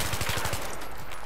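Full-auto gunfire from Battlefield 3, a fast burst of evenly spaced loud shots from a heavy-barrel rifle that stops after about half a second, leaving battlefield noise.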